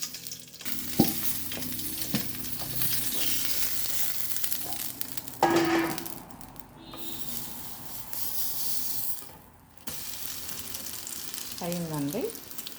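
An omelette of egg and flattened rice (poha) sizzles in a pan with a continuous hiss and crackle. Scraping and stirring sounds come and go, the sizzle dips and returns, and a short rising tone sounds near the end.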